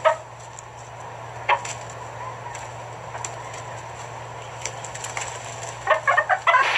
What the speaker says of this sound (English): Here comes the chicken with the mouse.